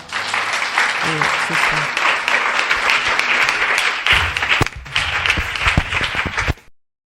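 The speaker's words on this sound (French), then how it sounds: "Et nous pouvons acclamer le Seigneur." Congregation at a church worship service applauding with sustained, dense clapping, louder bursts toward the end before it cuts off.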